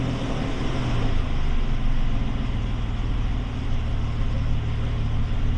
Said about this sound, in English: I'll go turn the car on now